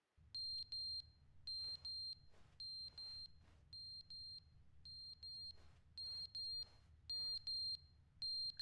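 A fire alarm inside The Stanley Parable video game beeps in steady, evenly spaced shrill bursts, roughly a dozen pulses with short gaps, over a low background rumble and with no talking.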